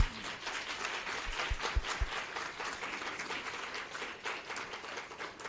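At an annual general meeting, an audience gives a round of applause, steady clapping from many hands at close range with a few sharper individual claps early on, continuing without talk.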